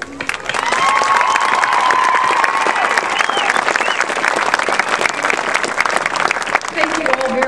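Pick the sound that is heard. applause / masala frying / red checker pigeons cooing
applause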